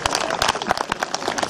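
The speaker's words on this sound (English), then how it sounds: "That's a round of applause." Audience applause at an armour demonstration at Arundel Castle, a brief burst of steady outdoor clapping from a small crowd, moderately loud and continuous with no speech over it.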